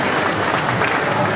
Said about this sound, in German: Ihr Applaus.